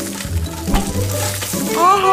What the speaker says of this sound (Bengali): ডাইনি দেখলো হারুর বউ রান্নাঘরে ইলিশ মাছ রান্না করছে।